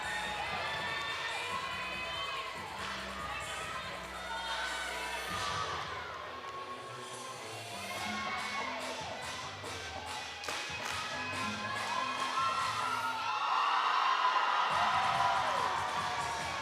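Crowd cheering and shouting at a college women's gymnastics meet, Clemson at UNC, with steady arena noise, bursts of whoops and rhythmic clapping building toward the end.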